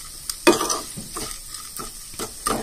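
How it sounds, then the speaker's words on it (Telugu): Fried dal being stirred into ridge gourd chutney in a pan: repeated scraping and clacking of a spoon, some sharp and close, over a faint background hiss. "ఇలా ఈ పప్పుని పచ్చడిని బాగా మిక్స్ చేసేసుకోవాలి."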